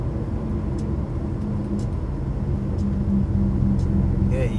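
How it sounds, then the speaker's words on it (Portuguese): A queue of cars stuck in traffic at Itapissuma, Pernambuco, heard as a steady, loud engine and road rumble from nearby vehicles, with a few faint clicks and a brief higher squeak near the end. "Tá uma fila de carro aqui"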